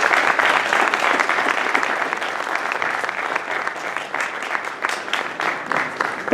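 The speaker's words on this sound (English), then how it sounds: "So please a big round of applause for all these amazing people." Sustained audience applause at an indoor stage ceremony, dense steady clapping from a large crowd at moderate distance, continuing without a break for several seconds.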